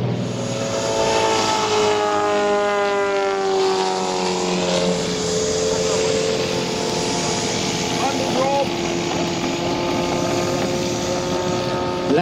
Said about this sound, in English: Boeing Stearman biplanes.